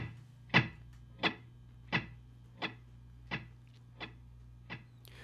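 An electric guitar swell runs through a TC Electronic Flashback Triple Delay set to ping pong, producing a train of about seven evenly spaced echoes that fade steadily over a low sustained hum, with no talking.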